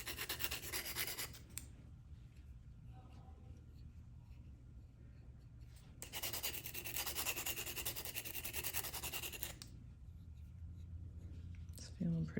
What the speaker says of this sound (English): I'm just trying to go over all the edges that I've already filed with the previous file to remove the scratches from the previous file